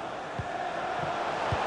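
Stadium crowd in a FIFA 23 World Cup final between Brazil and Serbia, a steady broad roar of cheering and chanting with a few low thumps underneath, sustained and fairly loud throughout.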